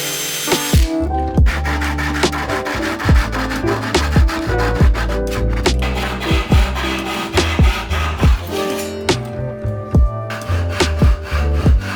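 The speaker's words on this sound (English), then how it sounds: "I cut out the half laps with a drill and pull saw" A pull saw cuts half-lap joints in wood with steady, rhythmic back-and-forth strokes, close and loud, with no talking.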